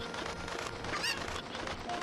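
A chicken (cucco) in the video game Ocarina of Time gives a short, honking cluck over a steady low background of game sound.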